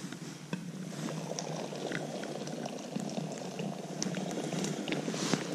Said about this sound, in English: pour it off into the pot.